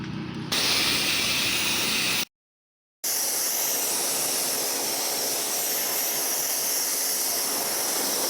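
A pressure washer sprays cleaning chemical in a steady, loud hiss that cuts out briefly partway through, then resumes continuously and close.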